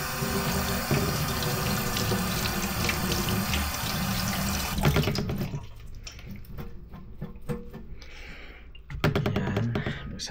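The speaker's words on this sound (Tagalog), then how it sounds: "Yan, hugasan ko na to." Herb stalks rinsed under a running kitchen tap, with a steady loud splash of water into the sink for the first half, then quieter dribbles and handling sounds before the flow surges again near the end.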